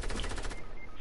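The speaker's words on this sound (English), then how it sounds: "I'm gonna shoot it down already, Alex." Rapid automatic gunfire in a video game, a fast loud burst of repeated shots that tapers off after about half a second.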